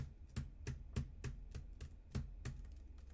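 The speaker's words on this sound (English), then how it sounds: "so we're going to start typing" Rapid keystrokes on a computer keyboard, sharp evenly spaced clicks roughly every third of a second, close and clear over a low steady hum, with no talking.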